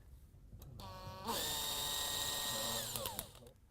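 Power drill fitted with a 5 mm bit boring a hole during assembly, starting with a brief rising whine, then running at a steady high pitch for about two seconds before winding down, heard close and alone.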